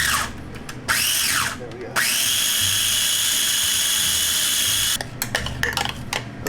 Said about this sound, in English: So what is it on the blender now?